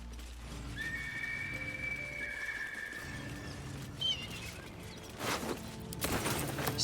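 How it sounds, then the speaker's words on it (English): An agitated horse in Baldur's Gate 3 neighs and whinnies in a long shrill call, followed by clip-clop hoof steps and further snorts in the game's ambient setting. "Just like a very upset horse somewhere."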